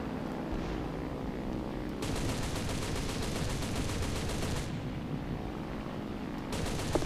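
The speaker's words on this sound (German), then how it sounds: "Und ich schieße auch zurück, vor allen Dingen mit dem Heckgunner." Rear gunner's machine gun in War Thunder firing back at attacking Stukas over the Rhine, heard as dense rapid bursts of gunfire over a constant aircraft engine drone, with a long burst and another starting at the end.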